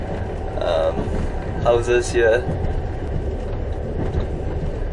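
Trans-Siberian passenger train rolling on rails through Mongolia toward Ulaanbaatar, a steady low rumble and rattle from inside the carriage, with someone talking over it throughout.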